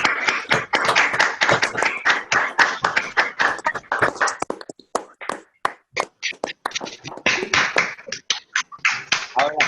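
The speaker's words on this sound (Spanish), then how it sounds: "Les pido que abran los micrófonos y demos un gran aplauso." Online participants on open microphones clap together in an uneven, choppy patter of overlapping claps and taps, with gaps and dropouts as the connections cut in and out, and voices mixed in here and there.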